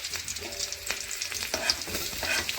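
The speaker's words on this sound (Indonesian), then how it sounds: "Lalu panaskan 3 atau 4 sendok makan minyak. Masukkan irisan bawang merah dan bawang putihnya." Sliced shallots and garlic fry in hot oil in a pan, a close, continuous crackling sizzle broken by the scrape and clatter of stirring.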